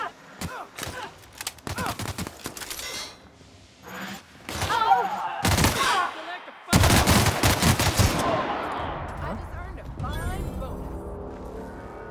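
Bursts of gunfire in The Outer Worlds video game crack out in rapid volleys and single shots alongside thuds, with character voices talking between and over the shooting.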